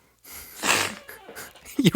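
Sneezing after drinking beer, a short burst of breathy, sharp bursts rising in loudness toward the end, with a forceful sneeze-like snort closing the sequence; no speech alongside.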